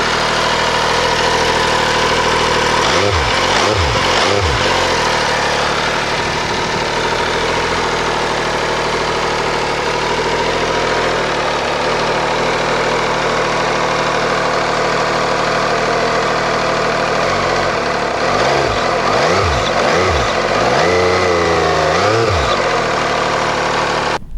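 An MV Agusta F3 800 motorcycle idles loud and close with a steady, uneven burble, broken by a few short revs early on and a cluster of blips near the end, with no talking.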